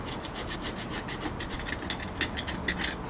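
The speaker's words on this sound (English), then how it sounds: "go around and clean up all the silicone off the diff face and the diff cover face." Dry, rhythmic scraping and rubbing strokes as a scraper works old silicone sealant off a vehicle differential housing face and cover face, close and moderately quiet, with a few sharper scratchy accents toward the end.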